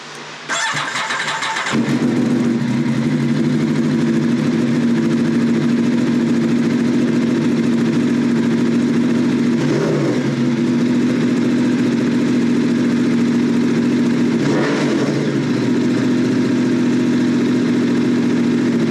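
A 2019 Aprilia Tuono V4 1100 RR Factory motorcycle fires up with a sharp starter burst, then settles into a loud, steady V4 idle with a couple of brief throttle swells.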